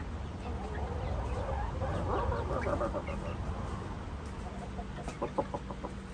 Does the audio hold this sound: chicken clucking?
yes